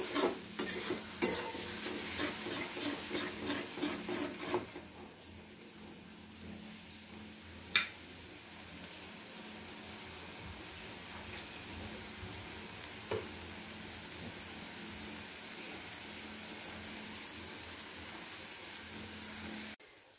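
Bengali spice paste frying in oil for Aar fish kalia, first stirred with quick scraping strokes in the pan, then left to sizzle with a soft, steady hiss and an occasional faint clink.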